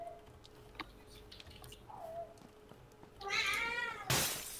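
A cat meows in two quick bursts near the end, the second louder and harsher than the first, over a quiet room with faint clicks.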